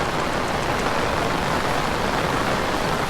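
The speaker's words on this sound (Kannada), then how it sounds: "ಹೋಗಿ ಮಳೆ ಬಂತು" Rain falling during a flood in Kundapura, Udupi, a steady, dense rushing hiss with no breaks, loud and close throughout.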